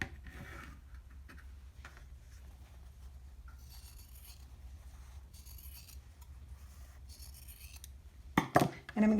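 Scissors trimming the corner off quilt fabric for a butterfly block, quiet snipping and ticking with a low hum, ending in a few louder close rustles.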